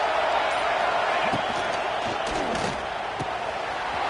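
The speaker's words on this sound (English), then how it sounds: "And here comes the noise. This crowd is trying to inspire this defense to make a big red zone stop." Stadium crowd roar in the College Football 26 video game during a red zone defensive stand, a steady loud wash of noise with scattered sharp thuds and shouts, running continuously under the action.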